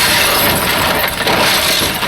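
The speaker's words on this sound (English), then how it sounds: "Jenny, the bang of the windscreen crashing was loud" A car windscreen shatters in a sustained, loud crash of breaking glass, a dense hissing spray of fragments lasting a couple of seconds with no voices.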